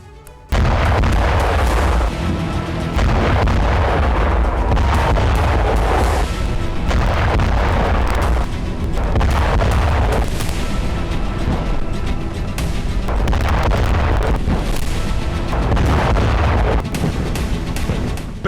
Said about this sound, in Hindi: पहला विस्फोट